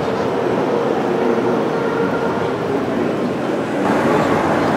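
Model of Chicago's elevated L train running on a large model railroad layout at the Chicago Museum of Science and Industry, a steady rumbling rolling noise holding level throughout with a slight swell near the end, no talk.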